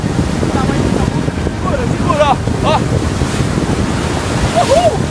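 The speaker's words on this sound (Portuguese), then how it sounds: "o barulho do vento e as ondas não estão deixando você ouvir" Ocean waves at a beach in Cabo Frio, Brazil crash and wash constantly while strong wind roars across the microphone; faint voices and a few short whistling calls come through underneath.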